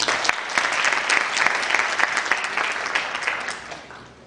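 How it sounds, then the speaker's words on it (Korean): Audience applause at a youth forum lecture hall, a dense burst of clapping from a seated crowd that swells briefly and then tapers off toward the end, with no talking over it. "박수 한번 주세요"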